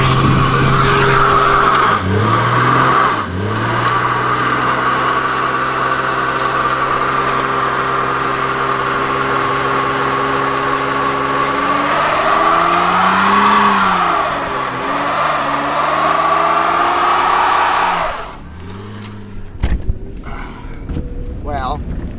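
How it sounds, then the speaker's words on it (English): A car revs hard and spins its tires in a burnout; the loud engine drone climbs and dips for about eighteen seconds, then cuts off sharply, leaving quieter idling and faint noises. "Not a very good one, but she did a burnout."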